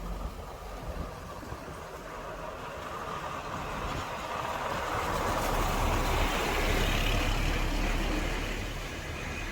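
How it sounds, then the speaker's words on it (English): A heavy truck rumbles past on a street in Santiago, Dominican Republic, building to a loud, close roar midway and then slowly fading, with no talk over it. "I'm gonna let this truck go by."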